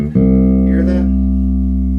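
A Hammersmith M4 bass with its front pickup turned down, played through a Mesa Boogie Subway amp: one loud, deep note plucked and left to sustain evenly for about two seconds.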